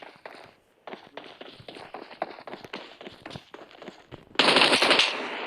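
Rapid bursts of automatic gunfire in the battle-royale video game PUBG, crackling in quick repeated volleys with a louder, denser burst near the end, no talking.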